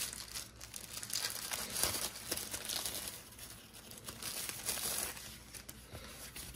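Plastic accessory bag from an Insta360 camera kit crinkling and rustling as it is handled, with continuous close crackles and soft tearing sounds throughout.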